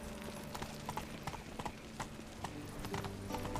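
Hoofbeats of Roach, Geralt's horse, running in the PS4 game The Witcher 3: Wild Hunt, a quick steady clip-clop at close range over game music and ambience.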